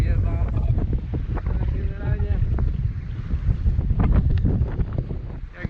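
Steady wind roars and buffets the microphone throughout at a reservoir, with a few faint voices and knocks underneath.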